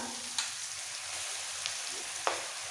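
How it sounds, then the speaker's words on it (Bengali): Spices and ground coconut lightly fry in a pan for a South Indian egg curry, giving a steady soft sizzle with a few faint clicks and no talk. "মশলাগুলো হালকা ভেজে নেবো বাটি নারকেল পোড়া"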